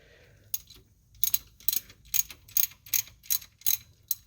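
Ratchet wrench torquing manifold bolts on a 1978 Chevrolet Monte Carlo, a close, steady run of about nine crisp clicking pawl strokes in quick rhythm with no talk.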